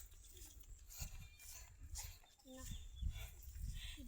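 Dog barking on an onion farm in San Jose, Occidental Mindoro, with several short barks and yelps scattered through the clip amid outdoor noise and people talking nearby.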